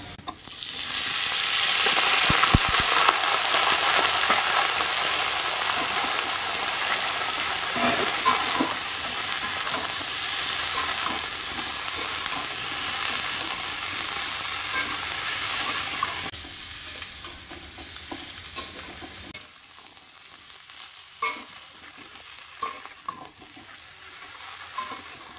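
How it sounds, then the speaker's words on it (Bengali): Chopped bottle gourd tossed into hot oil with dried chilli and five-spice for a lentil dish, a loud burst of frying that settles into a steady sizzle with scraping stirs, then quiets near the end. "তো এবারে দিয়ে দেবো কেটে রাখা লাউগুলো।"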